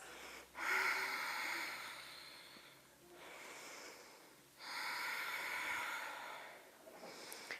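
Slow, deep breaths during a gentle neck and shoulder yoga session, long airy inhales and exhales rising and falling in a calm rhythm, close and soft, with no talk.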